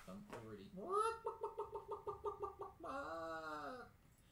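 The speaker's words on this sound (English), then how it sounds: "So if you want to record chicken noises, very handy." Chickens cluck in a quick rhythmic series of about ten notes, then a longer drawn-out call, played back from a recording through a small device; faint and thin.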